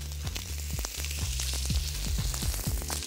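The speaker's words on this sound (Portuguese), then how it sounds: "Adoro esse barulhinho de fritura." A hamburger frying in olive oil in a pan sizzles and crackles steadily, with sharp pops scattered throughout and a low hum beneath, heard close with no talk.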